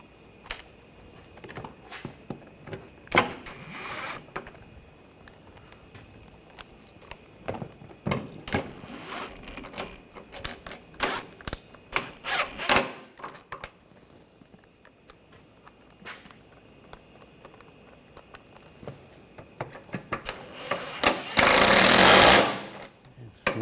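Power tool or impact wrench tightening bolts during a serpentine belt replacement on a Honda Pilot V6, heard as short repeated mechanical bursts with pauses and a longer buzzing run near the end, under occasional talk.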